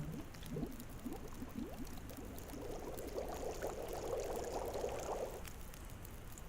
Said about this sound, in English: what if I boil this water here?